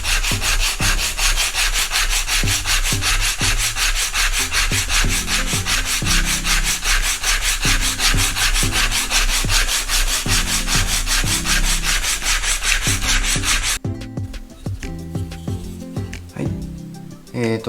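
Driftwood being shaved flat at an angle on its back face to form a handle: steady, loud rhythmic rasping strokes repeating for most of the clip, then thinning into lighter, more scattered scraping near the end.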